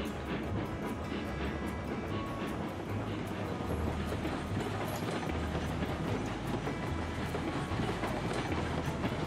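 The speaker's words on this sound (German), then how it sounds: "Die Lok ist heiß, das heißt, wir können fahren." Steam locomotive running in the railway game Railroads Online, a steady low rumble with rhythmic rail clatter and chuffing texture throughout, loud and continuous with no talk.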